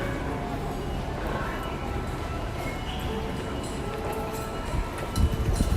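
A metro train in Osaka rumbles along steadily, with broadband rolling and track noise filling the whole stretch and some rattling clacks toward the end.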